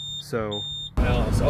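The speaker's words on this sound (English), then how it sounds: "That's our alarm, and I don't really know why that's going off." A van's dashboard alarm gives a thin, high steady tone in repeated short pulses, heard under someone talking and engine noise.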